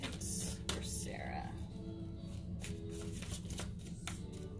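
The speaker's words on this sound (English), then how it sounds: "I would probably normally shuffle a lot more. I feel like I'm not shuffling enough" Tarot cards are shuffled close by in soft, quick riffling bursts, with a faint whisper-like voice murmuring underneath.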